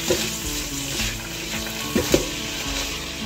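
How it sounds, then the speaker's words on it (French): Pot of macaroni and spinach simmering on the stove as it is stirred, a steady bubbling hiss with a few soft scraping and knocking spoon sounds against the pot. "je vais tourner tout et laisser mijoter pendant 5 minutes"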